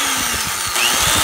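A 3/8-inch 2.6 amp electric drill running steadily for about a second, a loud, close, buzzing motor whine with no talk.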